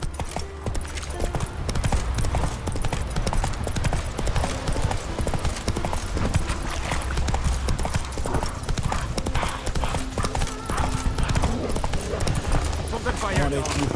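Roach, the horse in The Witcher 3, gallops in a fast, continuous clip-clop of hooves with steady loud rhythm, joined by game music and voices talking over it.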